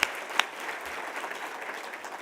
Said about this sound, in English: So give yourselves another round of applause for that.